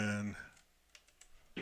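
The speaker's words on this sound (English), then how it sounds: "I'm going to type in the password" Computer keyboard keys tapped while entering a password on a Mac, a few light, scattered clicks heard right after a spoken voice, with talk resuming briefly at the end.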